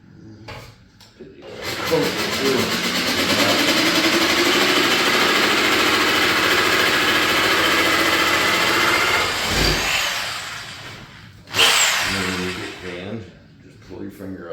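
A propane-powered saw runs during a 1947 mill restoration, a loud steady engine roar holding for about eight seconds before cutting off, followed by a brief second burst and nearby talk.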